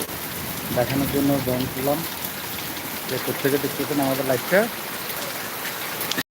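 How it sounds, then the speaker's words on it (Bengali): Heavy rain pours down in Lakshmipur, a dense, steady hiss of drops on surfaces that runs throughout while a person talks over it. "অনেক বৃষ্টি হচ্ছে লক্ষ্মীপুরে"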